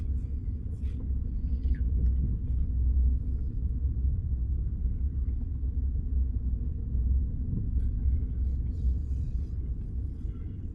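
Steady low engine rumble from a manual car turning slowly around a car park, pulling itself along at idle; a continuous close drone with no talk.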